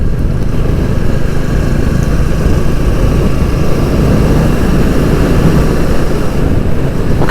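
A Royal Enfield Classic 350 motorcycle is ridden on the road between Ipswich and Felixstowe, giving a loud, continuous engine drone mixed with heavy wind rush and no voices throughout.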